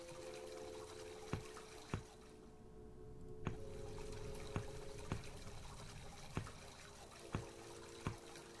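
Water flows and trickles in the video game The Deepest Sleep 2, a steady low wash under faint tonal hum, with a series of sharp clicks or drips spaced about a second apart, quiet and alone.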